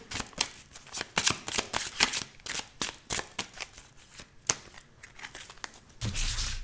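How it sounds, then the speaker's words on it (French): A deck of tarot cards is shuffled by hand in quick riffling bursts and slaps, close and crisp, ending in a rougher rustle. "Donc, on va tirer 13 cartes."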